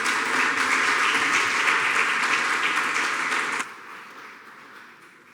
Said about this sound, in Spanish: yo les voy a dar un fuerte aplauso a los dos